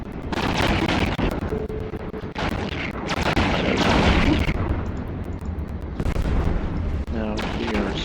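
Spaceship guns firing in the Eve Online video game, a steady dense barrage of booming shots and blasts that runs for several seconds, loud throughout with a brief dip partway through.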